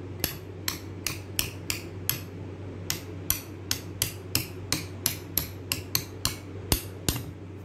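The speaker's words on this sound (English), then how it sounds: "I press here and then put the chisel here, and with the hammer" A hammer strikes a chisel to punch out the old driving shaft of a Robot Coupe MP550 Ultra mixer, about twenty sharp metallic blows at a steady, slightly uneven rhythm over a constant low hum.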